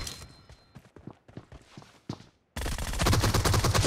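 Video game gunfire: a run of sharp, separate shots in quick bursts, followed by a dense, loud, continuous rattle of rapid fire.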